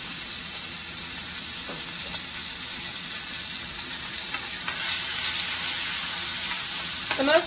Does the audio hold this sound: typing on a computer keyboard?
no